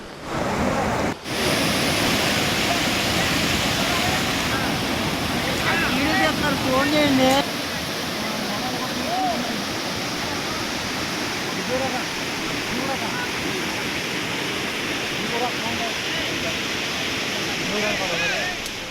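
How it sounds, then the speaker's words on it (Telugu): Heavy floodwater overflows the Peddavagu project in Bhadradri Kothagudem during heavy rains, a loud, steady roar of rushing water lasting throughout, with people talking over it near the start. "అశ్వరావుపేట నియోజకవర్గంలోని పెద్దవాగు ప్రాజెక్టు పొంగి ప్రవహించింది"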